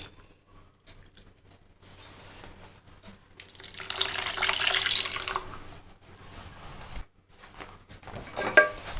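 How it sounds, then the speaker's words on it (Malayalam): Tamarind water squeezed and poured into a pan for a Kerala koorka theeyal, a steady splashing pour of a couple of seconds with faint kitchen clinks before and after. "ഇതിലേക്ക് വെള്ളം ഒഴിച്ച് വെച്ചിരിക്കുന്ന പുളി പിഴിഞ്ഞ് ഒഴിച്ചു കൊടുക്കാം."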